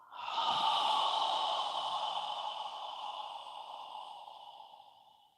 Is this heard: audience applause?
no